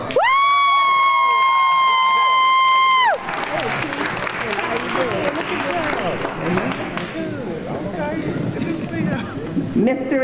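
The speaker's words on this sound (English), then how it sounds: "Give them a hand" An audience applauds and cheers a couple married 52 years at a celebration. A sustained tone gives way to a swell of clapping and whoops, with a voice speaking over it.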